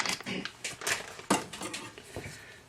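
Chinese sausages dropped into a pot of ramen soup give off a brief clatter and clink of kitchenware, with one sharper knock midway through a run of scattered, light rattles.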